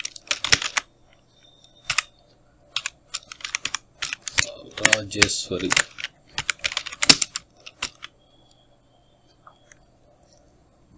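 Rapid clicking on a computer keyboard while typing Tamil text in Photoshop, irregular bursts of close, crisp keystrokes with pauses between them, and a brief spoken word partway through.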